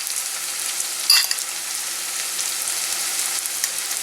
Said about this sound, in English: Now I'm just going to break the saltfish up in small pieces